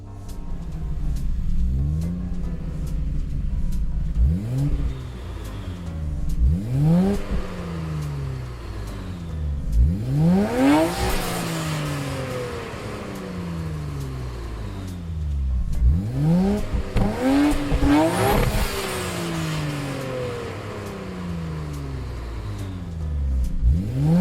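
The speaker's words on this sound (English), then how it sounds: "noise comes from the star of this update, the Nismo R34 GTR Z-Tune from 2005." A 2005 Nismo R34 GTR Z-Tune engine in Gran Turismo 7 revs up and shifts repeatedly, with loud rising engine sweeps dropping at each gear change through several acceleration runs.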